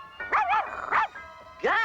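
A cartoon puppy gives a few short, high yipping barks in quick succession, close and clear, with brief pauses between them.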